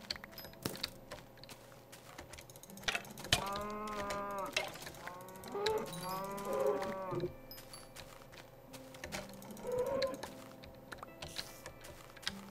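Minecraft cows moo several times in the middle of a game session, their drawn-out bovine calls rising over steady keyboard typing and mouse clicks that run throughout.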